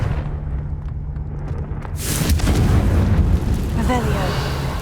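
A Confringo spell fired in Hogwarts Legacy bursts into a loud, broad explosive boom about two seconds in, then rumbles and crackles for a few seconds over a low ambient game hum.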